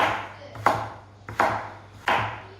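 Knife chopping vegetables roughly into big chunks on a cutting board, three firm evenly spaced chops, close and distinct with no talking.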